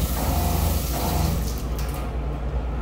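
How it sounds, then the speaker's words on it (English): An automatic water pump in a trailer runs water, giving a steady rushing flow with a low pump hum underneath that continues evenly throughout, fairly quiet and without speech. "The automatic water pump allows you just to turn it on."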